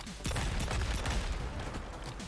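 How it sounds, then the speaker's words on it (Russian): Robocop's Cobra assault cannon firing in Mortal Kombat 11, a dense, continuous barrage of heavy blasts with booming low thumps that runs unbroken for about two seconds. "Штурмовая пушка Кобра."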